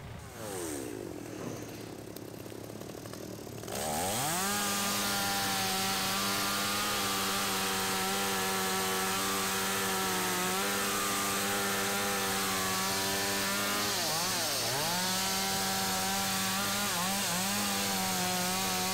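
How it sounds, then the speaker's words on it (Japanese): After a quiet moment a chainsaw roars to life and cuts steadily through felled logs, its pitch dipping briefly under load a few times, loud and close. "造材するところですね、 うん、 チェーンソーで。"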